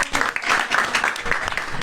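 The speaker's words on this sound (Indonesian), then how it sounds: "tepuk tangan untuk kelas 5K" Audience clapping for class 5K, a steady burst of applause from a group of students that continues evenly throughout.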